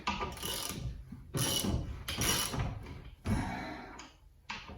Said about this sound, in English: So we'll just screw this down.